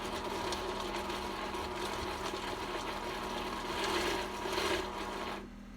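A Vitamix blender chops onion and carrot at slow speed, giving a steady, loud whirring motor drone with gritty chopping texture that runs evenly before cutting off abruptly at the end.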